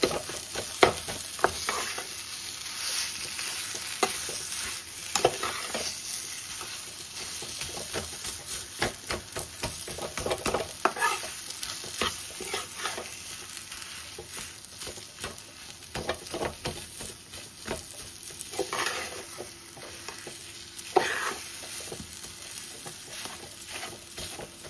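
Boiled potato being mixed with onions in a frying pan, a continuous stirring and scraping with a steady oily sizzle underneath, close and even over a long stretch.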